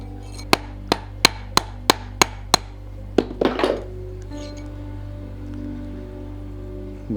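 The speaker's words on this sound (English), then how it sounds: "Now the hammer, that's leather, so although I'm going to hit it" Seven evenly spaced leather mallet blows on silver, sharp and close, then a quick cluster of clattering taps before quieting to a faint hum.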